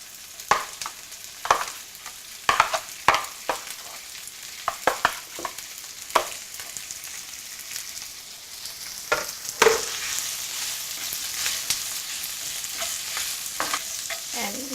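Prawns stir-fry with ginger in a hot pan, a steady sizzle broken by repeated scrapes and clatters of a utensil stirring against the metal.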